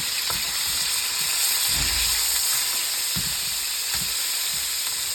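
Food sizzling and frying in a hot pan after a flip during home cooking, a steady bright hiss with soft low bumps of stirring, close and continuous, no talk.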